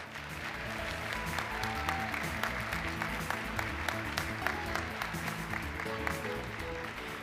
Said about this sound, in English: Please join us in giving these accomplished photographers a round of applause.